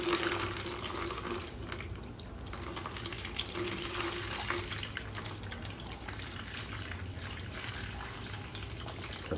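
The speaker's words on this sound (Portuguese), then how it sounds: "Você vai descartar essa água com todo cuidado." Water poured from a fish bag into a sink, a continuous splashing trickle with steady rushing texture and no speech.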